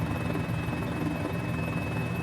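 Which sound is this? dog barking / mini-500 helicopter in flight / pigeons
mini-500 helicopter in flight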